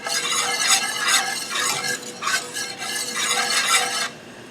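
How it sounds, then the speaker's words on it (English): A flour roux for gravy is stirred and cooked in a pan, with rhythmic scraping strokes and a soft sizzle repeating in several close bursts before tapering off. "we do want to cook this roux for about 1 minute, just so it doesn't taste like flour"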